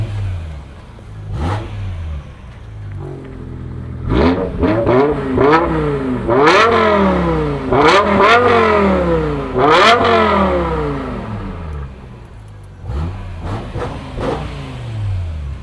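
A V10 car engine is blipped through a series of sharp revs, each rising quickly and falling back, with faster stabs in the middle and a calmer idle between bursts, loud and close.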